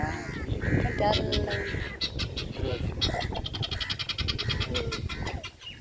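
Chickens clucking and squawking nearby in a rapid, rhythmic series, with a voice speaking underneath at times.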